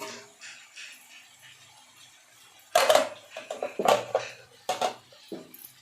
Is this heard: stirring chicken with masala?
yes